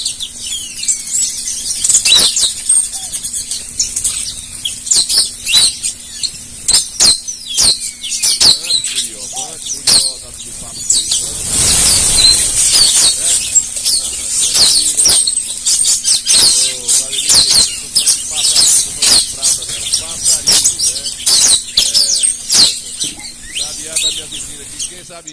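A sabiá thrush calls nearby in repeated bright chirps and short warbling phrases, coming in irregular bursts over a steady low hum, with a louder rushing noise in the middle and faint talk at times.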